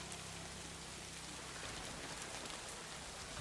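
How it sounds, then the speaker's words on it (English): Steady, even hiss of rain falling on a roof on a rainy night, a soft dense wash that holds at the same faint level throughout, with no voices or distinct drops standing out. "The sound of rain falling is so soothing"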